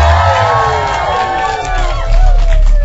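A game show studio audience cheers and whoops together, a lively crowd swell that carries on strongly with voices mixed in.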